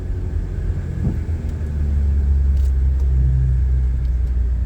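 A 2007 Saturn Aura XR, a triple-black sports sedan with an engine fault, drives down a road: steady low engine rumble and road noise from inside the car, swelling slightly midway as the engine surges.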